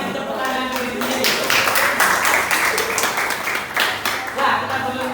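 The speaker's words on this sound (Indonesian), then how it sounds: "Kita kasih tepuk tangan diri sendiri." A school classroom of students claps for themselves at the end of a music lesson, a steady broad patter of many hands that swells and fades over several seconds, with some voices in the room.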